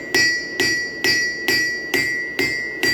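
A hammer strikes a hot steel blade on an anvil in seven evenly spaced blows. Each one is a loud, bright metallic ring that decays between hits, and no speech is heard.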